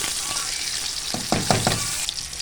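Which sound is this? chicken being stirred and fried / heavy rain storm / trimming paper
chicken being stirred and fried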